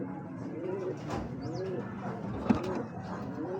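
Domestic pigeons give soft, rolling coos, several calls repeating one after another at close range over a steady background hum.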